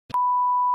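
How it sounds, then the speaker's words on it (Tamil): A steady censor beep, a single pure tone that starts after a brief click of cut-off speech and holds evenly, loud and alone, until it stops abruptly. "நிறைய பீப்ஸ் இருக்கும்."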